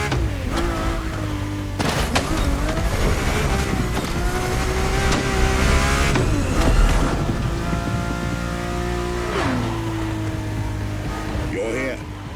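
A Ferrari F50 engine in The Crew Motorfest revs and drones with rising and falling tones through several gear changes, under steady talking.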